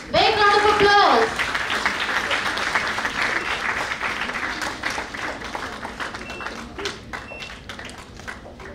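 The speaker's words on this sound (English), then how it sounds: "Big round of applause." An audience applauds at a college festival's souvenir release ceremony, with a loud burst of clapping and a short musical flourish at the start, then steady applause that gradually thins out.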